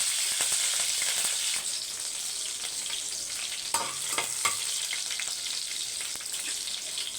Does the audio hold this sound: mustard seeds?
yes